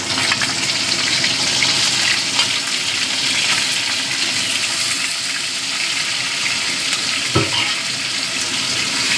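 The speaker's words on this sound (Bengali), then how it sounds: "এই লটি শুটকিগুলো ভালো করে ভেজে নেব" Loud, rushing sizzle of dried fish frying in hot oil, a dense watery crackle throughout with one sharp clack near the end.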